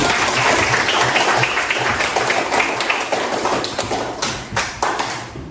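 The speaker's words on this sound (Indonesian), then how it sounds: "tepuk tangan untuk kita." Classroom applause at a school lesson, many hands clapping steadily and loudly from nearby throughout, with scattered sharper claps standing out.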